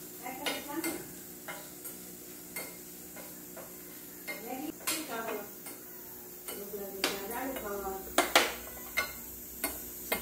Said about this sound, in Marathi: नंतर थोडंसं खोबरं परतून घ्यायचं त्याच्यामध्ये